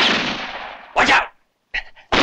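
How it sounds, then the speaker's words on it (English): Explosions in a spaghetti western, three loud broadband blasts: the first ends a fading rumble, then a sharp burst, a brief silence, a crackling double report and a final heavy blast. "Where's that bombing?"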